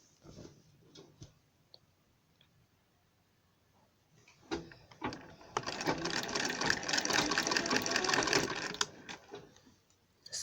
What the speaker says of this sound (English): Now let's start sewing.